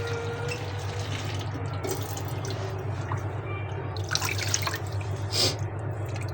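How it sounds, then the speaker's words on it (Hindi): Clean water poured over poppy seeds (khashkhash) being washed in a bowl, a steady running, trickling wash with small splashes and drips, close and continuous throughout. "साफ पानी डालेंगे।"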